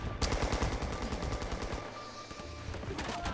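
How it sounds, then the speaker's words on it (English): Rapid automatic gunfire in the Rising Storm war shooter game: a loud, steady string of closely spaced shots that runs without a break, with no talk over it. "Who the hell is shooting me?"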